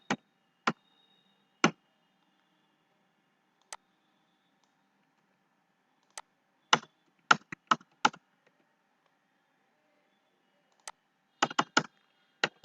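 Java code is typed on a computer keyboard in sparse clicks and short quick bursts of keystrokes, separated by quiet pauses, heard close.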